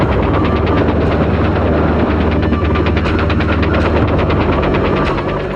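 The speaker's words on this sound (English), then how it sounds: "Hueys flying at treetop level wrought havoc on those below." A Bell UH-1 Huey helicopter flies close and loud, its rotor beating in a rapid, steady chop over a deep engine roar that fades slightly at the end.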